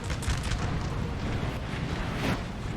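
Artillery fire in the Napoleonic battle game Napoleon: Total War, a dense, continuous wall of rumbling booms and blasts blending into a roaring battlefield din, steady and loud throughout.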